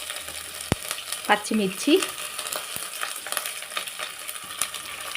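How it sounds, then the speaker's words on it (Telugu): Onions frying in a pan for chicken dum biryani give a steady close sizzle with stirring scrapes and a sharp knock, while a voice speaks briefly over the cooking. "ఆనియన్స్ కొంచెం బ్రౌన్ షేప్లో వచ్చేంత వరకు ఫ్రై చేసి పక్కన పెట్టుకోవాలి."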